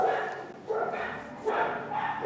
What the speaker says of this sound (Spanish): Ay, estos benditos perros.